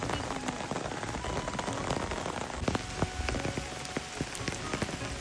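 Steady rain falls across a tea garden, a dense close patter of drops on surfaces with scattered sharper taps, continuous and moderately soft throughout.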